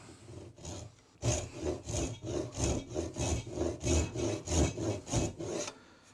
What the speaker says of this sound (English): we'll just square it up in the vise and saw straight down so we get down to our line